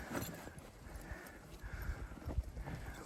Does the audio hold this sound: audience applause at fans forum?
no